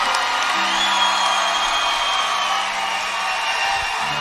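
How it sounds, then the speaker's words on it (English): A concert audience cheering and applauding for two performers, a loud sustained roar of whoops and clapping filling the whole stretch with no break. "I would love it if y'all would give him a big round of applause and get him to come back out here"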